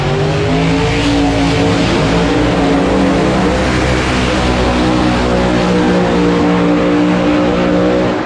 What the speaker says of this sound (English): Two fast-ass cars that get down the track.